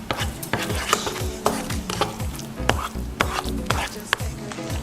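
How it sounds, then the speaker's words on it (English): Vegan scrambled eggs with a dairy-free creme fraiche being stirred in a pan, with a steady run of close, rhythmic scraping strokes roughly every half second over a soft sizzle and no talking. "Mix that up."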